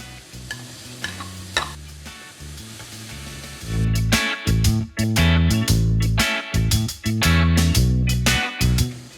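Vegetarian minced meat sizzles loudly in a hot wok with chili and garlic, with rhythmic scraping and stirring strokes growing stronger after a quieter start; no one speaks.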